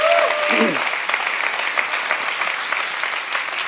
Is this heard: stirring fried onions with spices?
no